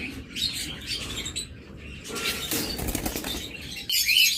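Lutino ringneck parakeets flap their wings in bursts with scattered chirps and tweets, close by and moderately loud, with no talking.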